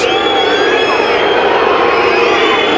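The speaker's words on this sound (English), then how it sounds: "And the crowd not too happy." A football crowd in a stadium roars with displeasure after a card is shown, a dense, loud wall of whistling and shouting that holds steady throughout.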